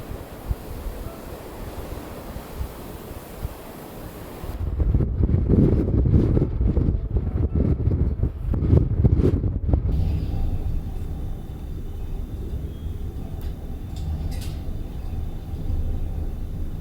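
Strong snowstorm wind buffets a cabin on Svalbard, a low roaring gusty rush that surges loudly midway and then settles to a steadier blow.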